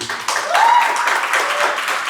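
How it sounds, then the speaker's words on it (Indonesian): University students clapping together at a campus event, a short burst of massed applause that rises quickly and holds for about two seconds. "Tepuk tangan dong buat mahasiswa-mahasiswi."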